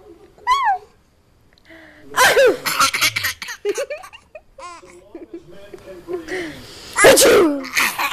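A staged, exaggerated human sneeze bursts out, followed by a small child's giggling and babbling, then another loud mock sneeze near the end, all close up in a quiet room.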